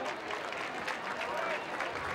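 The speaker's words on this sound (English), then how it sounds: "Lake fans applauding as if it will." Lake fans applauding in the stands at a high school football game against Hoover, a continuous mid-distance crowd clapping throughout that is steady and moderately loud, with murmuring voices mixed in.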